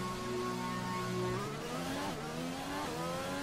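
Formula One car engine in the F1 2020 racing game, revving loudly and steadily with harmonic engine tones that rise and dip as the car accelerates and shifts, no talking.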